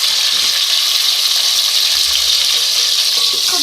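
Green chillies and tomatoes fry in a pan with a loud, dense, unbroken sizzle that holds steady from start to finish.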